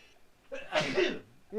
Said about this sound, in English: Sorry, I got the sneezes again.